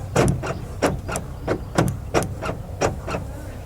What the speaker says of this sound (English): So you go to lock the car with a Fabia that's got remote central locking.